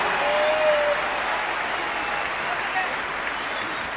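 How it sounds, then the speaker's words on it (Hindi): An audience at a large motivational business event in Kolkata gives loud, dense applause to welcome speakers to the stage, a sustained wash of clapping with a brief voice or cheer near the start. "आप जोरदार तालियों से इनको स्वागत कीजिए।"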